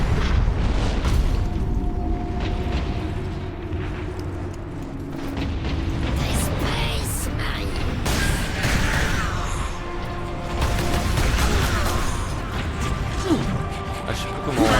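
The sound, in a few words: gunfire and explosions in Warhammer 40,000: Space Marine video game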